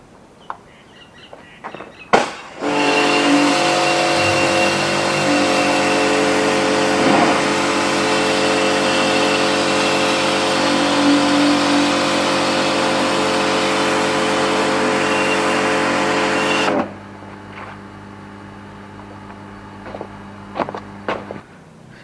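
A small Karcher pressure washer at 1800 psi runs steadily for about fourteen seconds for dustless wet sandblasting, a loud continuous hissing spray with motor hum that starts abruptly and cuts off, leaving quieter background with a few faint clicks.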